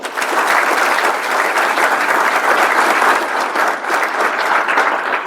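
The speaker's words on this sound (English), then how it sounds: "give him a round of applause" An audience at a college athletics hall of fame ceremony claps steadily and loudly, a dense, even wash of applause that holds for the whole stretch.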